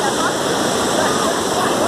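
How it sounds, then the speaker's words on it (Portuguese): Cachoeira de Santana waterfall near São Carlos, Brazil, a steady loud roar of falling and rushing water, broad and continuous throughout, with a voice faintly present beneath the torrent. "uma das melhores cachoeiras aqui da região de São Carlos"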